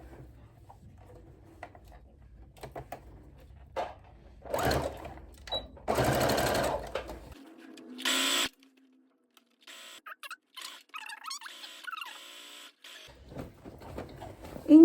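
Sewing machine stitching the armhole of a viscose midi dress: short bursts of rapid mechanical clatter separated by quiet pauses, with fabric handling and small clicks between runs, close by and without speech.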